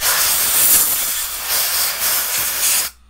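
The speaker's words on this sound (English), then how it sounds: "I would just come in here and blow all this garbage out." Compressed air blowing dust out of an Xbox console, a loud, close, continuous hiss in bursts lasting about three seconds before cutting off abruptly, with no talking.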